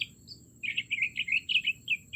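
Seagulls swooping around near a house give a series of short, bright chirping calls, starting with one brief cry and then a quick string of closely spaced calls, fairly close and moderately loud over a low background rumble.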